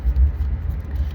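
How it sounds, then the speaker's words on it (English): Deep thunder rumbles steadily and low, a muffled, continuous roll from some distance with no sharp crack. "excuse the thunder here"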